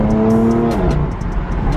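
A sports car's engine and aftermarket exhaust rev loudly and steadily up close, one engine note rising and falling, with a few voices talking over it.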